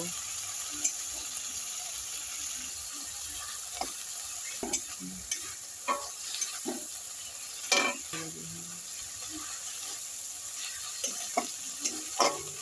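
Prawns and masala sautéing in a kadai for prawn curry, giving a constant close sizzle punctuated by repeated scraping stirs of a spoon against the pan.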